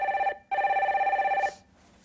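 A telephone rings for a radio call-in show: two loud electronic ring bursts with a short gap between, then quiet. No voices are heard.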